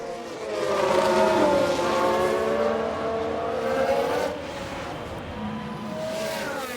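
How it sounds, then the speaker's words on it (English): A race car in F1 Manager 22 revs and skids through a spin, its engine whining and sliding up and down in pitch, fairly loud at first, then easing off before picking up again. "We've just had a spin."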